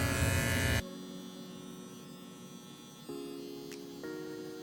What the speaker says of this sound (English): Maybe I could do a treatment with this big clipper